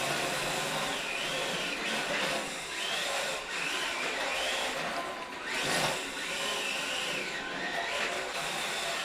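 Motor of a rear-wheel-drive MST RMX 2.0 RTR radio-controlled drift car held at throttle, a steady, close electric whine with slowly wavering pitch that rises and falls as the car slides, continuous with no speech.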